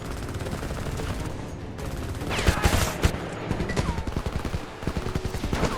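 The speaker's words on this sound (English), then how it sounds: "Oh, there's the machine gun." Sustained machine gun fire in the video game Homefront rattles in rapid, dense bursts, loud and close, with a few heavier shots standing out partway through.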